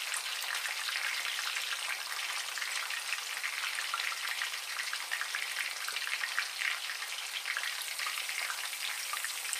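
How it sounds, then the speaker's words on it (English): Pieces of fish for fish and chips frying in hot oil, a dense, steady crackling sizzle that holds at even loudness throughout, close and continuous with no voices. "I'm going to lower them into my oil slowly right here"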